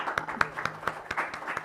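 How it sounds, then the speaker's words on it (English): Brief audience applause at a keynote address and panel discussion on court design, heard as a thin run of separate claps. "And a round of applause for that."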